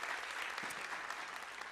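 Church congregation clapping at a celebration service, a steady dense wash of applause from a crowd, moderately distant and sustained throughout.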